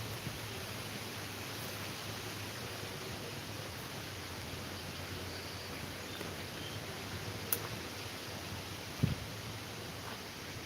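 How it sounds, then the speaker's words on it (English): Steady, broad rushing of fast-flowing river water fills the whole clip, constant and close, with a brief knock near the end. "This water's going pretty good."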